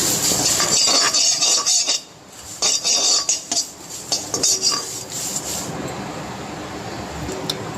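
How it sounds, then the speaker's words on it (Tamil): Vallarai (Centella) greens sautéed in a pan, metal spoon scraping and clinking against the pan in repeated bursts over a steady sizzle, with a brief quieter pause, close up and no speech. "இப்போது வல்லாரக்கீரையை போட்டு கொஞ்சமாக வதக்கி எடுத்துக்கலாம்"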